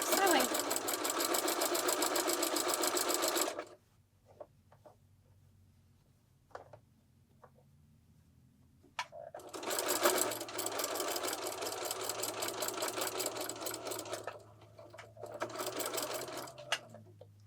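A sewing machine stitches a fabric wine gift bag, back stitching over a tab. It runs in a steady, rapid whirr for several seconds, stops for a long quiet pause with small clicks, then runs again in two more bursts.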